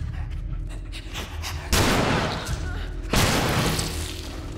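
Two loud, close gunshots ring out about a second and a half apart in The Last of Us Remastered, each with a sharp crack and a rumbling tail over a tense game background.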